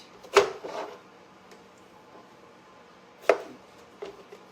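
A knife chopping fruit for snack prep, with two sharp cuts close together early, another cut a few seconds later and a faint knock at the end, against a quiet kitchen background.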